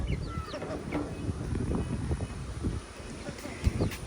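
Chickens cluck and squawk in short bursts as they run home in a village ahead of a storm, amid rustling, wind-like background noise, fairly close by.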